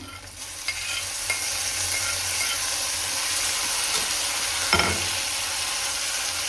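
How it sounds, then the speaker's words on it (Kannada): Onions and tomato fry in a pan for palak pappu, giving a steady close hiss of sizzling oil with occasional soft scrapes and one brief clatter of stirring, no voices. "ಈರುಳ್ಳಿ ಇದೆಲ್ಲ ಸ್ವಲ್ಪ ಚೆನ್ನಾಗಿ ಫ್ರೈ ಆಗಲಿ, ಹಸಿ ವಾಸನೆ ಎಲ್ಲ ಹೋಗಬೇಕು ನೋಡಿ."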